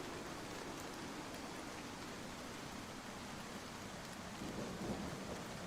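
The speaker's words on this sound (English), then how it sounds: "Where's the ASMR rain sounds coming from?" Steady rain pours throughout in a dense, even hiss, soft and continuous with a faint low rumble, no voices.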